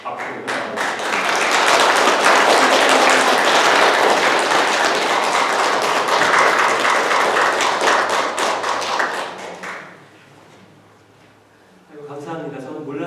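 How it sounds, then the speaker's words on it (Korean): A church congregation applauds: loud, dense clapping swells and holds for about nine seconds, then fades away before a voice begins speaking. "뜨겁게 박수를 부탁드립니다"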